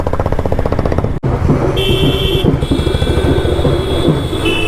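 Vehicle horn blasts cut through dense city traffic in Bhagalpur, with steady engine rumble and road noise underneath and a couple of sustained honks sounding over the traffic din.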